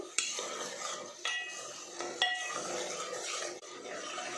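Something sautés in oil in a pan for green chana dal, with a soft sizzle under repeated metal spoon scrapes and clinks against the pan at roughly one-second intervals, close and fairly quiet.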